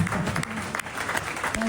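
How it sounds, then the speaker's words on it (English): Short burst of applause from an audience at a ski media day, steady clapping under a host's voice. "A round of applause."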